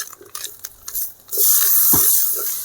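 Onion masala and tomato are sautéed in a pan. Faint stirring and scraping comes first, then a loud, steady sizzle starts suddenly and continues close up.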